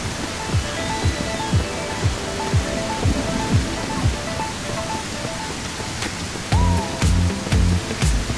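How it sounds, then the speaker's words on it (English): Steady rain falls in a dark, wooded survival game setting, a dense broadband wash with no breaks, overlaid by rhythmic footstep-like thuds and later some louder knocks and clatter. "but because it's raining"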